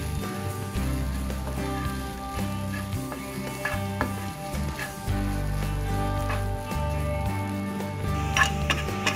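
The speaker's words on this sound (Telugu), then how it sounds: "వేసేసి ఈ ఘీలోనే మనం పచ్చి కొబ్బరి తురుముని కూడా చక్కగా మనం ఫ్రై చేసుకోవాలి." Grated fresh coconut fries in ghee with a soft, steady sizzle and occasional light stirring clicks, heard alone at moderate volume.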